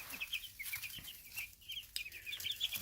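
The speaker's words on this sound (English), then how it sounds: "I wanted to give you an update on the chickies." Baby chicks in a home brooder give repeated high, thin cheeping chirps in quick bursts, moderately close and fairly quiet, with no talking.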